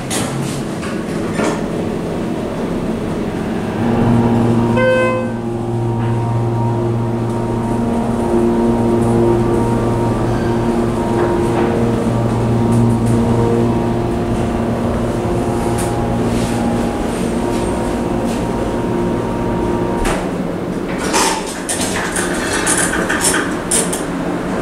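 Motor of a Schindler HT hydraulic elevator at a JOANN store in Westlake Shopping Center, Daly City, California, runs with a loud, steady droning hum and faint pump whine that continues unbroken throughout.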